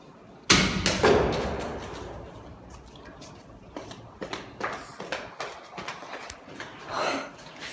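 A water bottle dropped from really high hits the ground with one sharp, loud impact, followed by fading rattle and a run of lighter thumps and scuffs nearby.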